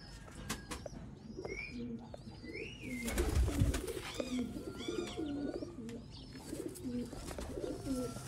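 Lakka pigeons coo in soft, repeated throaty calls, several birds close by, with chirps and a brief rustle of wings mixed in.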